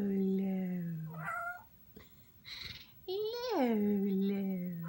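A house cat meows in a few drawn-out, rising-and-falling cries, close and fairly loud, while someone talks to it affectionately in a high voice in a home where a parrot is also kept.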